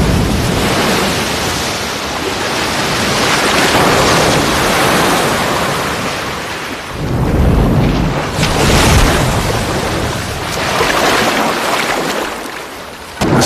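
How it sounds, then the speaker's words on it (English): Killer whales drive powerful waves against an ice floe, producing a loud, continuous roar of surging, rushing water that swells and eases in broad waves, with no voices. "they unleash a far more powerful wave, and with astonishing force"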